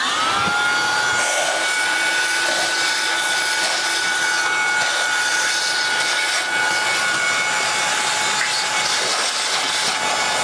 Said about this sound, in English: I'm gonna grab the vacuum where we can kind of clean that out and examine them a little better.